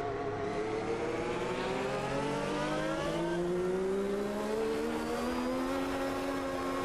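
Simulated race car engine from Automobilista 2, a steady high-revving drone with rising harmonics as it accelerates through the gears, loud and continuous with no talking.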